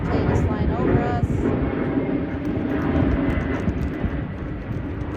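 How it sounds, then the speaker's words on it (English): An airplane passes overhead in a rural outdoor setting near an airport, a steady broad engine roar that swells and holds throughout, with faint voices and wind noise mixed in. "This plane is flying over us."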